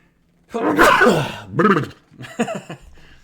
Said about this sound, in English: I'm about ready to sneeze, excuse me